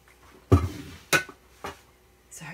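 Pots and food containers knock and clink as they are handled and stowed aboard a liveaboard boat. Several separate clatters sound close by, with quiet gaps between them.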